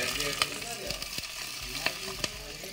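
Shallots, ginger, green chilies and curry leaves sauté in hot oil for a fish curry, a close, steady sizzle punctuated by frequent scraping and tapping of a spoon stirring in the pan.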